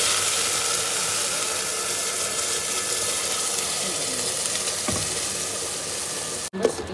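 Onions frying in hot oil in a home kitchen, giving a steady broadband sizzle that holds even and close throughout, with a brief clatter near the end.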